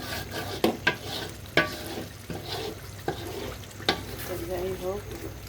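Masala for chicken biryani is stirred and fried in a pan, giving a faint sizzle broken by several sharp scrapes and clanks of the spoon against the pot at irregular intervals.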